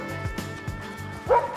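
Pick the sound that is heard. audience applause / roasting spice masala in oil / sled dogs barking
sled dogs barking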